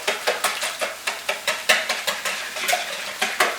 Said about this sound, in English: I have to beat the egg yolk, or eggs